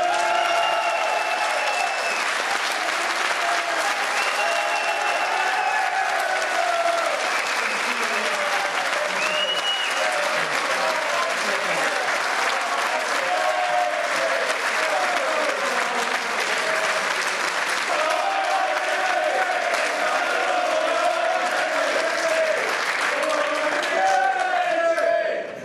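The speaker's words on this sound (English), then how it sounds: "Ladies and gentlemen, please make your hands raw with applause" Sustained audience applause fills the room, loud and unbroken, as a crowd claps and cheers for an entertainer called to the stage at a live show.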